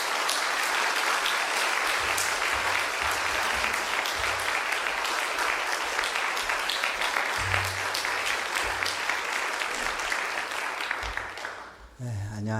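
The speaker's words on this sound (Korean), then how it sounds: "우리 뜨거운 박수로 우리 선교사님 맞이해 주시기 바랍니다" A church audience at an autumn evening service gives sustained, dense applause to welcome a missionary, continuing loud for about eleven seconds before fading, with a voice briefly audible at the end.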